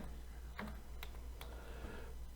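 A few quiet, crisp keystrokes are tapped on a computer keyboard, spaced irregularly over a soft background hum in a quiet room.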